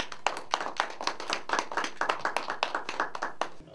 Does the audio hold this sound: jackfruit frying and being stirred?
no